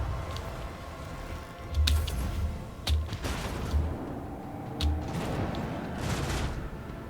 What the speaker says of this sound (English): Oh, actual guns.